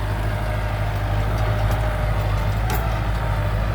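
Two Kubota tractors, an L5018 and an L4708, plowing a wet rice field together after rain: a steady, loud diesel engine drone with deep low rumble running unbroken throughout, close by.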